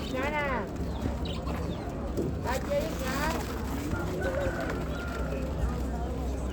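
Pigeons coo amid a busy bird market in Ganja, Azerbaijan, with people talking loudly over the birds and steady crowd bustle behind.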